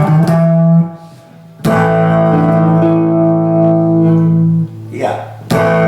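A jam opens on a sustained, heavily effected electric chord with echo and reverb, struck again after a short break and ringing on under a few faint background voices.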